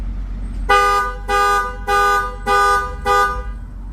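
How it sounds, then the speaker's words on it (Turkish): A Ford EcoSport horn sounds on double locking, giving five short, loud, evenly spaced honks close by, with no voices. "Çift kilitlemede kornamız."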